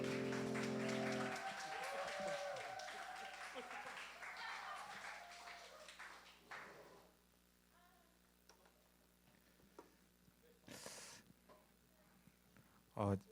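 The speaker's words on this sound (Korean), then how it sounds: "나오실 때 박수로 환영하겠습니다." A church high school youth group claps to welcome a speaker. The applause is loud and dense at first, then thins out over several seconds and gives way to talking and a few scattered clicks.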